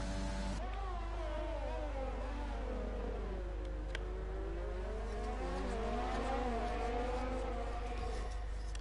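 Formula racing cars, Red Bull and Haas, roar through a racing video game, engines rising and falling in pitch as they rev and shift, with a steady hum of several cars close together and no voices.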